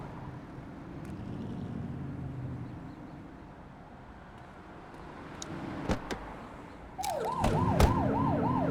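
A police car siren in the game The Precinct starts up after a few seconds of low traffic rumble, wailing loudly in a fast repeating yelp close by.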